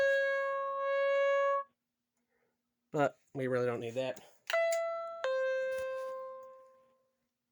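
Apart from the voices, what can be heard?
AiPhone C-ML intercom door bell tone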